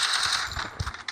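Rapid gunfire from the Free Fire mobile game during a headshot, a quick burst of sharp shots over about a second, with no talking.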